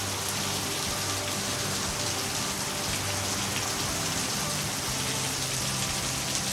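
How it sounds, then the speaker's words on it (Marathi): Heavy rain pours steadily across a hillside village and its farmland, a dense, even hiss that never lets up, close and loud throughout, with no voices. "फटके डोंगरावरून तो पाणी पाऊस खाली उतरला बघा"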